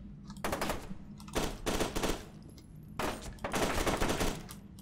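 Rapid bursts of automatic gunfire from F.E.A.R. 2: Project Origin, four separate clattering volleys with short gaps between them, fairly quiet and distant, with no voices over them.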